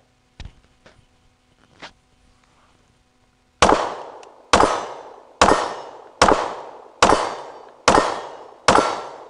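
Sig P365 pistol firing six sharp, loud shots in a steady rhythm at roughly one-second intervals, each with a ringing decay, after a few quieter clicks and knocks of handling at the start.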